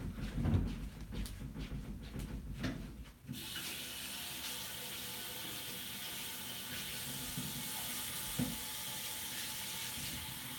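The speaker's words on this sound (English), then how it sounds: "I'm going to wet these beauty blenders." Water runs from a tap into a sink to wet makeup sponges, a steady hissing stream that begins abruptly after a few seconds of handling noise and continues at close range.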